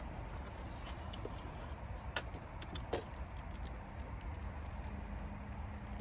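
Keys jingle faintly as they are pulled out of a locked 2013 Freightliner Cascadia truck cab: scattered metallic clinks and a brief rattle over a steady low rumble, with no speech.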